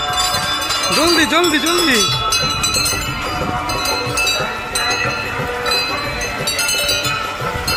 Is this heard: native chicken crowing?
no